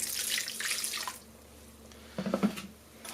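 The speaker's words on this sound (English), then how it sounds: "Add a sprinkle of water." Water running from a tap into a bowl of wood glue, a hissy splashing burst at the start, then a quiet pause and a few short louder splashes and drips near the end.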